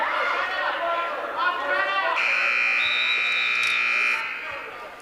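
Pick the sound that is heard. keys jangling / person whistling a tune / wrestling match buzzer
wrestling match buzzer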